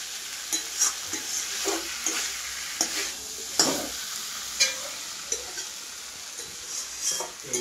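Fish curry ingredients fry with salt in a pan: a low continuous sizzle runs beneath repeated stirring scrapes and occasional light clinks of a spoon against the pan, close and fairly quiet.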